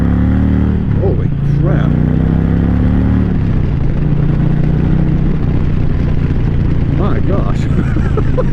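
An Indian Challenger motorcycle engine revs hard under throttle at passing speed, its loud, close roar climbing and dropping in pitch over steady road and wind noise, while a rider exclaims over it.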